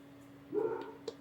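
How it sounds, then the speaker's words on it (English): A single faint, muffled dog bark sounds from a distance over a steady low hum, followed by a tiny yip. "There's my doggy River barking away."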